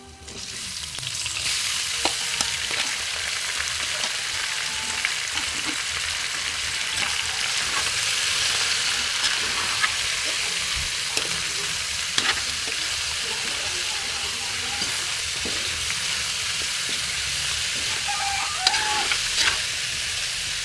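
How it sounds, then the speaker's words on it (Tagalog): Pork pieces sautéing in a pan with lightly browned aromatics for Filipino pork menudo, a loud, continuous close sizzle and crackle punctuated by occasional clinks and scrapes of stirring, no voices. "Habang ginigisa natin to guys"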